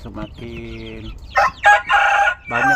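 Backyard chickens being fed cassava cluck close by, and a rooster lets out loud, repeated crows in short bursts, with a voice faintly underneath.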